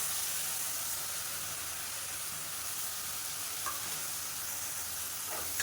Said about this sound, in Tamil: அந்த வெங்காயம் இஞ்சி பூண்டோட பச்சை வாசனை போகிற அளவுக்கு வதக்கிக்கலாம்